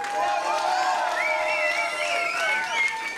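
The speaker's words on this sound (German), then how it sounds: "Einen großen Applaus nochmal." A crowd at the Grand Beatbox Battle winner's concert cheers and applauds in a dense, continuous roar. High whoops and shouted voices rise over it throughout.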